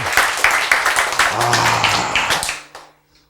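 A room full of people claps briskly in a dense, steady burst for a couple of seconds, then the applause abruptly stops.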